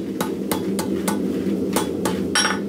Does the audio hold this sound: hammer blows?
yes